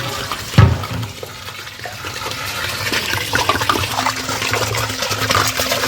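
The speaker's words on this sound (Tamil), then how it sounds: "உலைக்கு ஒரு 3 கேன் தண்ணி ஆட் பண்ணிக்கலாம்." About 60 litres of water are poured from cans into a large pot for cooking a 40 kg seeraga samba biryani, a heavy splash at the start followed by a steady close-up rushing and filling sound.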